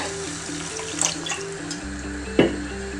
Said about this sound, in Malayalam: ഇനി ഇതിലേക്ക് നമുക്ക് വെള്ളം ഒഴിച്ചു കൊടുക്കാം.